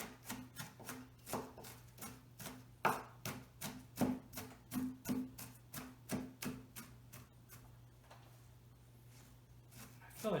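A knife finely chopping onion on a board gives steady, rapid rhythmic chops close by, about two per second, slowing near the end over a low kitchen hum.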